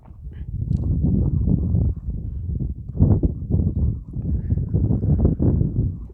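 A horse from Suusamyr walks on hard ground, its hooves giving a steady, close clip-clop that runs throughout.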